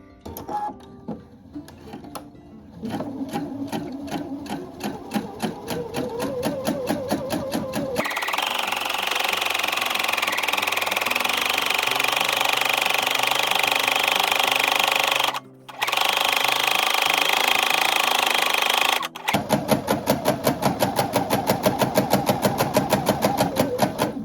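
A sewing machine stitches fabric for a small doll dress, running in fast steady bursts: a short run, then a longer continuous whir that pauses briefly, then resumes loud and close.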